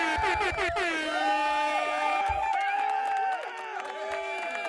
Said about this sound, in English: I just gave you a round of applause and the Jamaican horn.